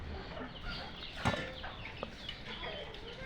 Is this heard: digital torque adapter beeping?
no